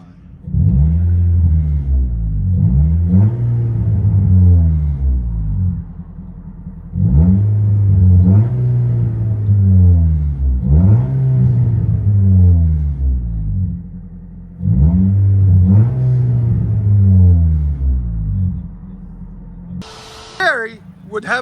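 Inside a modified 2005 Nissan Sentra Spec-V, the engine drones and revs in repeated surges, rising and falling in three long bursts with idle lulls between, with a voice briefly audible near the end.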